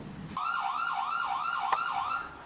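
A police siren wails in a fast, steady up-and-down warble, starting abruptly after a brief quiet moment and holding loud and close for about two seconds, with no talking over it.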